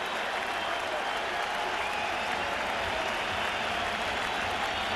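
Baseball crowd at Shea Stadium during a Yankees–Mets World Series game rising to its feet, a sustained loud roar of cheering and applause filling the whole stretch without a break.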